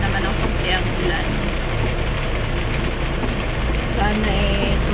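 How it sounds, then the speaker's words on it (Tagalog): Steady, dense rain keeps falling and grows heavier, filling the scene with a continuous broadband hiss that stays loud throughout. "Ayan, medyo lumalakas na naman ang konti ang ulan."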